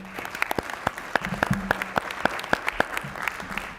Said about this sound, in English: I mean, that's a round of applause right there.